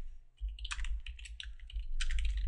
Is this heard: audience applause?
no